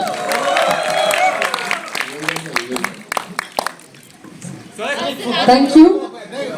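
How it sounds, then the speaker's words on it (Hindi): Scattered hand claps from a press conference audience ring out amid lively chatter and voices, building briefly before the talking takes over again. "इसके लिए ताली बजा दो"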